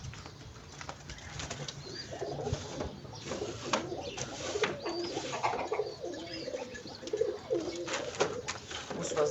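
Pigeons coo repeatedly in a loft with nesting birds, soft throaty calls overlapping at close range, with faint wing flutters and rustling between them.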